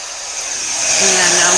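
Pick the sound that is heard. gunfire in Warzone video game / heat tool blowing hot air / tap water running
heat tool blowing hot air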